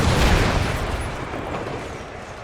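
Grenadiers fire grenades in the Empire Total War strategy game: a loud, dense wash of booming battlefield detonations and gunfire rumbles steadily across the whole stretch, strongest at the start and tapering slightly.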